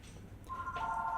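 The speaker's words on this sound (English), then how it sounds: "Oh, that's a phone call." A telephone rings for an incoming call, with clear electronic ring tones starting partway through and continuing steadily against a quiet background.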